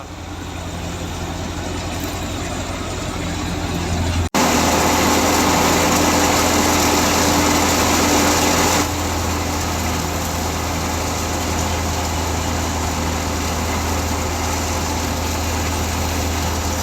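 A Dabang tractor powers a thresher machine with a loud, continuous engine drone and the dense mechanical roar of the thresher. The sound jumps sharply in level a few seconds in and then stays steady, with no talking.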